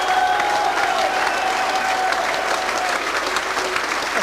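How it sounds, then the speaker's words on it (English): Argyle fans at a Plymouth Argyle versus York City football match applaud as the players leave the field, a loud, continuous stadium round of clapping with a faint murmur of crowd noise underneath. "So as the players leave the field to a wonderful round of applause from the Argyle fans"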